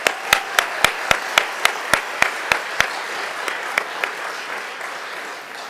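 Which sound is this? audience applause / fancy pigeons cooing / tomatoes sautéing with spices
audience applause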